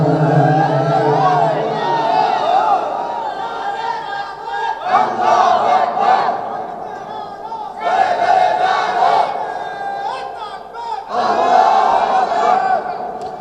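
A large crowd at an Islamic waz sermon loudly shouts the takbir chant in repeated call-and-response waves, with several roaring bursts separated by brief pauses.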